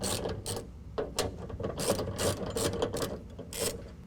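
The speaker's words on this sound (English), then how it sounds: "we're going to use a 7/16 ratchet, and we're going to take out these 2 bolts right here for this bracket" A 7/16 ratchet works out bracket bolts on a truck during a tonneau cover install, giving steady quick clicking and ratcheting bursts at close range with no talk.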